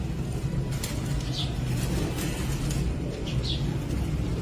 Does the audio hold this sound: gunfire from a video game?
no